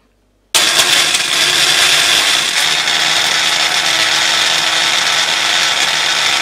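After a moment of silence, a loud motorized kitchen appliance crushing Oreo biscuits starts abruptly and runs at a constant high whirring roar throughout.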